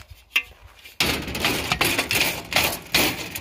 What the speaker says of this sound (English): I'll take the hammer to the end of it